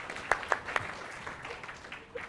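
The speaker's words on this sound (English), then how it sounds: "I think you can applaud them" An audience in a lecture hall at a research conference applauds, with a few sharp, scattered claps early on that thin out into faint, sparse clapping amid a murmur of room noise.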